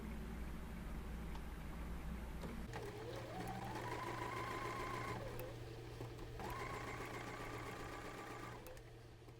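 A sewing machine runs in sustained bursts while chain piecing paired quilt block pieces, its steady mechanical whir rising and falling with short pauses between seams, close and clear with no talk.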